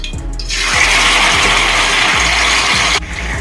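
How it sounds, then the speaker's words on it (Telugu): Chicken pieces drop into hot oil in a kadai for Indian chicken fry, setting off a loud, sudden sizzle that holds steady for a few seconds, with faint rhythmic knocks underneath. "ఇప్పుడు మనము చికెన్ ముక్కలు వేసేస్తున్నాము"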